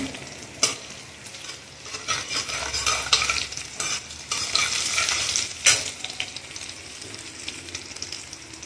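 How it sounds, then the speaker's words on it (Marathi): Ginger sautéed in oil on medium heat for a Marathi potato bhaji, a close sizzle with repeated scraping stirs of a spoon across the pan that swell and fade. "हे आलं ना व्यवस्थित परतून घ्यायचंय, थोडं शिजू द्यायचंय।"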